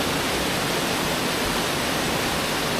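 Holme Force waterfall in the Lake District pours in a steady, loud, broadband rushing roar, close by and constant without variation or voices.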